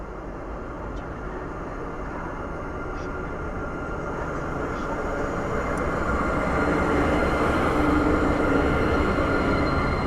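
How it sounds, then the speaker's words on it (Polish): Pesa Gama diesel locomotive pulling away and a train rolling past at a Warsaw station: a broad, continuous rumble and rail noise that slowly builds in loudness, heard fairly close. "a my czekamy na start gamusi spalinowej"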